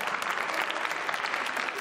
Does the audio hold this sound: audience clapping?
yes